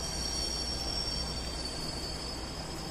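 A Jakarta MRT train at Lebak Bulus station gives a continuous loud rumble with a high, steady whine over it that holds evenly throughout, and no one speaks.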